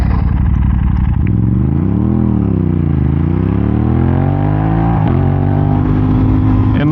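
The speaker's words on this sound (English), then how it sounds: "That's exhaust pretty loud, but I'm gonna try to be good." An Aprilia RS 660 sport motorcycle's loud exhaust is revved up and down close by, with the pitch rising and falling in smooth sweeps over a rough, throbbing idle.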